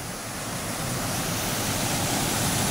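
A waterfall pours down in a steady, dense roar of rushing water, loud and unbroken throughout, with no voices over it.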